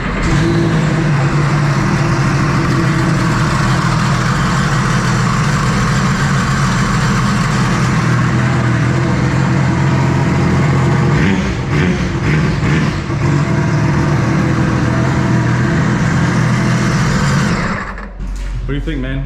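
A jet boat engine, a Sea-Doo RXP or Yamaha GP1800 personal watercraft, rumbles loudly and steadily, idling with a deep throb, then briefly revs and sputters near the end.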